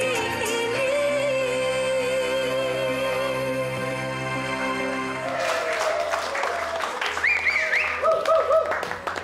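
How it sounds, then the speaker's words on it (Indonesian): Audience applause after a stage performance, scattered clapping rising in the second half as sustained music with a steady tone fades beneath it. "Beri tepuk tangan sekali lagi"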